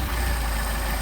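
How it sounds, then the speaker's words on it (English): Car engine with Solex carburetors idling with its throttle linkage out of adjustment, a steady close low rumble that runs evenly through a very short stretch. "you can tell the difference in how the engine is idling because the throttle linkage was out of adjustment"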